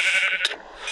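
A short sheep bleat from a video game stands out once, near and fairly loud, over a steady bright background of game sound.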